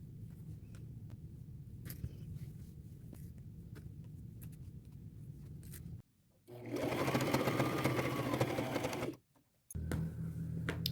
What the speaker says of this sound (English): I will sew from here, a 1/4 inch seam allowance all the way around to this pin.